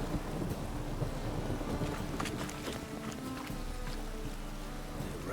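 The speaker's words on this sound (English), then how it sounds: "It rains. It pours." Steady rain pours in the video game The Witcher, with low rumbling like thunder rolling beneath it and faint splashing, continuous and fairly loud throughout.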